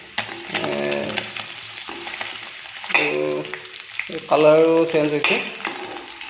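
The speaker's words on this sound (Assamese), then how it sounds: "বাকী প্ৰচেছখিনি কৰি আছোঁ, অকণমান ভাজি লওঁ।" Pieces of pork sizzle and crackle in a pan while being cooked with tomato, a continuous frying hiss running under a person talking close by.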